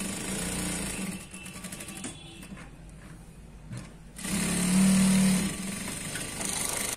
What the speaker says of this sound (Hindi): हम चारों तरफ से इसे सिलाई करके आपको रेडी दिखा देंगे